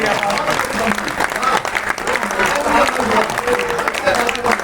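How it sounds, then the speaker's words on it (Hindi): Audience applause following a Hindi poetry recital of a Mahabharata poem by a poet, loud sustained clapping from a crowd filling the whole stretch, with voices mixed in beneath. "आपने अच्छी कविता के लिए ताली बजाकर पता लगा दिया"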